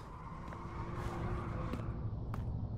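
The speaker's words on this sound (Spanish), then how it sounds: "¿Qué he escuchado? Ah, vale, es el coche." A car engine passes by in the video game URGE, a low, soft motor hum that swells slightly and then eases, with a few faint clicks over the drone and no talking.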